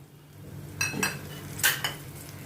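Spoon clinks and scrapes against a pan as chopped tomato, grated green chilli and browned onion are mixed for masala baigan, a few short metallic strikes over quiet background, no talking.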